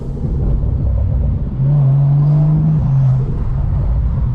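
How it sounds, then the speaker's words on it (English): A BMW 435i with an upgraded build, its engine droning under load, then a brief steadier tone as the revs hold before a quick shift drops the pitch, loud and close throughout. "That was a fast shift right there."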